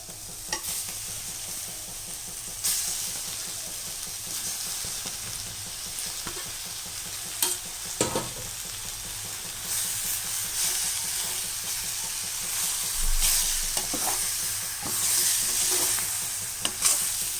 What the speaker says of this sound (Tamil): இதையும் போட்டு நல்லா வதக்கிடலாம் இப்போ இந்த மசாலாவோட நல்லா இந்த சிக்கன் கலந்து வரும்